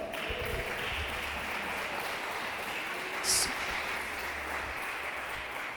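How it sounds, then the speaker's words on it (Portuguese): A church congregation applauds during an evening worship service, a dense, steady wash of clapping that holds at an even level for several seconds with no clear pauses. "Você pode aplaudir o nome do Senhor?"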